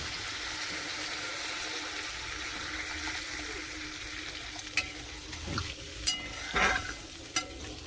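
Leftover dal water poured into a hot frying pan, a low continuous hiss of cooking that swells near the end with splashing bursts and brief clatters as the liquid hits the pan, no voices.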